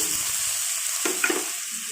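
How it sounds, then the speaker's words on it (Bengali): Chopped potatoes hit hot oil in a wok with a bright continuous sizzle, broken by a couple of quick stirring scrapes and clinks, with no voices. "এবার আমি কড়াইয়ে আলু কুচোনাটা দিয়ে দিচ্ছি"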